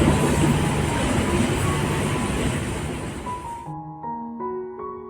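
A train at Andul station gives a loud, close, broadband rumble for nearly four seconds, which then drops away to a few steady tonal notes.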